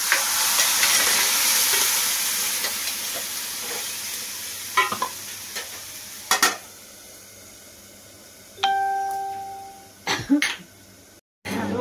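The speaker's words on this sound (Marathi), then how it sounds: "शिवल्या फोडणीला दिले." Clams (shivlya) fry in hot tempering oil with a steady hiss and sizzle, broken by spoon scrapes, pan clatter and a throat clearing in a home kitchen.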